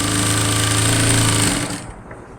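Sewing machine stitching a nighty, running as a loud, steady, rapid mechanical whir for about a second and a half, then stopping abruptly and leaving quiet room sound.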